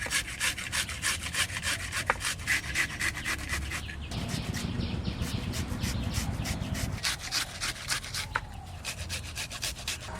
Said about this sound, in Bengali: পেঁয়াজ দুটো ঘষে নেব।